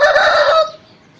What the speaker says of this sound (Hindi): मुर्गे की आवाज़ें आप सुन रहे होंगे